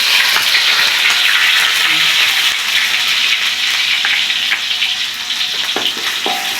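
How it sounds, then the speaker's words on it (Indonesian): Shallots and garlic sizzle and crackle loudly in hot oil in a wok, a steady frying hiss with occasional stirring clinks. "kita ambil bawang merah, bawang putih, kita masukin ke wajan."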